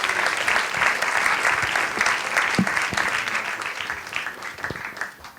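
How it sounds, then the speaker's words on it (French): Sustained audience applause at a student graduation awards ceremony, a dense steady roar of many hands clapping that gradually tapers. "Applaudissements pour Laura et François-Marie."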